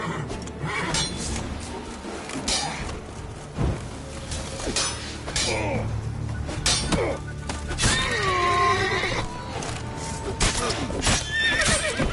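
A horse in The Witcher 3 video game neighs loudly over clopping hooves, combat clatter and voices, with a second whinny later on.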